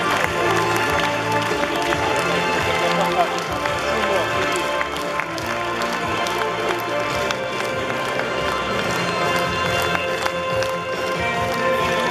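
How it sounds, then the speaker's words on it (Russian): Vigorous applause from a festival audience at a theatre event, dense continuous clapping sustained throughout with voices mixed in. "И ваши бурные аплодисменты,"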